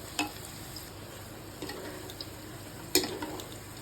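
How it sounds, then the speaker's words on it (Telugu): Potato pieces fry in oil, a faint, steady sizzle broken by a few brief scraping stirs, close but quiet, with no voices. "అన్నీ విడివిడిగా ఎర్రగా ఎంత చక్కగా వేగుతున్నాయో చూస్తున్నారు కదా"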